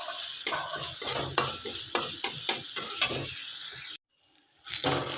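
A spice paste for jackfruit curry is stir-fried in a little oil. Loud sizzling is broken by sharp, regular scrapes of a spatula in the pan, then cuts out abruptly before a short burst of frying returns.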